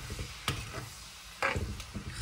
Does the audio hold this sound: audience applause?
no